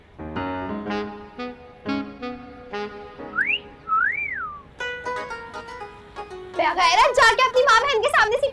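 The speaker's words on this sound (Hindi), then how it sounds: "आपने सीटी बजाई है?" Indoors, someone whistles a few rising and swooping notes between bursts of close, animated talk and singing, with overlapping voices growing louder and busier toward the end.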